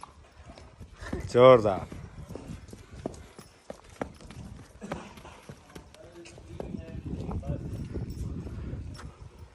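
Hoofbeats from a 24-year-old dancing horse at a palace horse farm, a burst of clip-clop steps near the start and lighter footfalls later, heard under people talking nearby.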